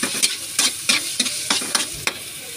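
A spoon stirs sautéed tomato, onion and garlic in a hot pan, giving about eight quick scraping strokes in a steady rhythm over a soft sizzle, close and moderately loud.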